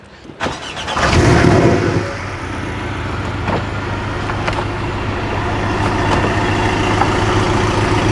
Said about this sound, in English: can we hear the sound, the exhaust note?